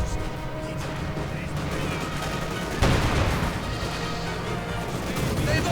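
Company of Heroes 2 battle between T-34s, a Panther and infantry: dense, crackling gunfire with scattered shots and thuds, plus one sharp anti-tank grenade blast near the middle, all running continuously.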